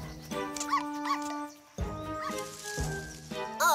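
A cartoon dog gives short yips and whimpery barks in a few separate bursts, close and clear over light background music.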